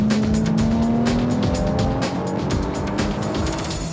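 A Lotus Evora S in sport mode on the Lotus test track, its engine droning loudly up close with a steadily rising tone and a tyre-noise rush, heard from inside the car without talk.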